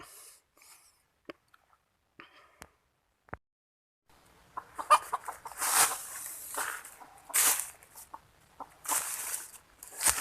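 A freshly caught young wild junglefowl rooster with small spurs, not crowing, gives scattered soft clucks and brief calls, followed by louder bursts of clucking and rustling activity close by.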